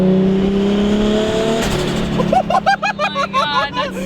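Turbocharged Nissan Skyline GT-R engine revving hard, with a steady idle drone rising into a series of sharp, loud throttle blips and rev bursts close by, each rising and falling quickly.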